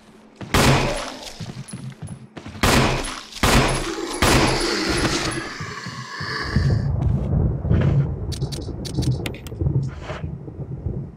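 Gunfire aimed at zombies in the Resident Evil 1 remaster: several loud, close shots spaced a second or two apart, then lingering crashes and game effects with faint high pings near the end.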